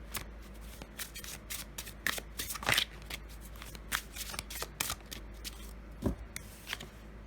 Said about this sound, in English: let's draw you a few oracle cards